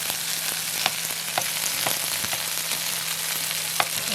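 Vilumbili vegetable fries in hot oil with mustard seeds, making a steady close sizzle with scattered pops and crackles and faint stirring.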